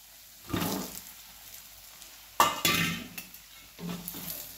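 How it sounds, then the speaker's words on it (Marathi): Brinjals tipped into roasted masala in a pan and stirred, several separate bursts of clattering and sizzling scrape up close, each lasting about a second, with quiet gaps between them. "ह्यात टाकूया आपण आता ही वांगी"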